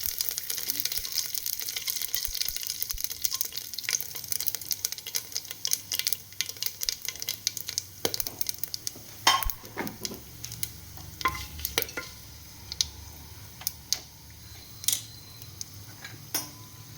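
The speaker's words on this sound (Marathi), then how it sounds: "यात एक चमचा जिरे आपण जे खडे मसाले घेतले होते ते टाकायचे" Cumin and whole spices crackle in hot oil for white pulao, a sustained sizzle dotted with irregular sharp pops and spatters that come close and loud at times.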